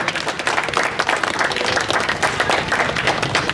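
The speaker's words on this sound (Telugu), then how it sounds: "దయచేసి వీరికి చప్పట్లతో ఆహ్వానించి సన్మానించుకుందాం" An audience claps to welcome award honorees at a Jagtial daily walkers' welfare association felicitation, a loud, sustained wave of applause with crisp individual claps and some crowd noise mixed in.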